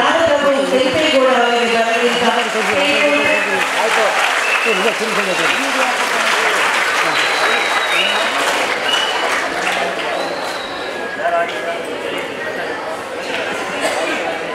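An audience at a Kempegowda Jayanti celebration in Mandya claps loudly and steadily, a thick, sustained applause heard close that thins slightly toward the end, with a voice speaking over it.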